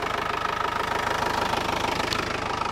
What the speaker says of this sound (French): Je vais te mettre le micro pour que tu puisses entendre un peu le chant de l'OM 314.